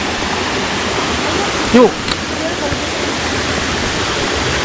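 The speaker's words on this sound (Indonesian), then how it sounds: "Air terjun jengkol karena rasanya rasa jengkol." A waterfall along the Mount Gede Pangrango trail near Cibodas roars as a loud, constant rush of falling water, with a brief spoken word cutting in near the middle.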